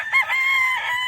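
A game farm rooster crows once, close and clear, in a strained, drawn-out call lasting about a second, with no talk over it.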